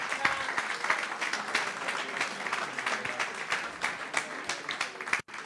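A live audience applauds a veteran rock drummer at a music event, a steady patter of many hands, moderately distant and fairly quiet, with a brief dropout near the end.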